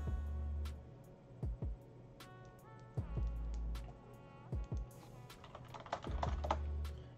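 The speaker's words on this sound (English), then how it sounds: "And sorry for the typing noises." Rapid clacking keystrokes on a computer keyboard during a beta stream of an online poker game, coming in irregular bursts with short pauses, fairly close and alone without talk.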